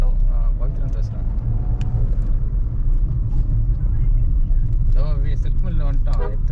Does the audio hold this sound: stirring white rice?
no